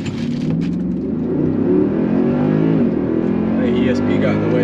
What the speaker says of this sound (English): All right, brake boosting.